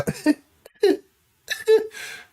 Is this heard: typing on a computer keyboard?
no